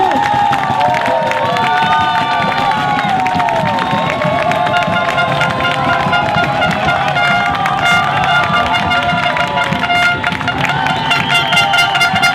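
A French rally start with a dense crowd cheering and applauding continuously throughout, loud and close, with horns tooting and whistles mixed into the din.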